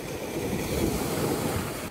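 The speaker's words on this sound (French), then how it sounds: "quand on arrive ici et qu'il y a les vagues qui arrivent sur les rochers" Ocean waves break on rocks along the coast of Mauritius in a steady, rushing wash mixed with gusty wind noise, fairly close, with no voices.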